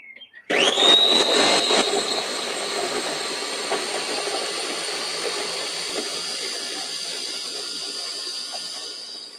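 Blender whirring as it purees ginger, cumin and olive oil into a smooth sauce, starting abruptly with a rising whine, then a loud, steady motor roar for several seconds.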